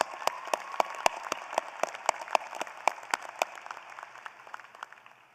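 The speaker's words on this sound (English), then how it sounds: "Let's give them an applause." At a college of agriculture commencement ceremony, a small audience gives sparse, distinct handclaps in an uneven rhythm that thins out over a few seconds.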